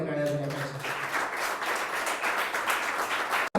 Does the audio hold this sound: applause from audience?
yes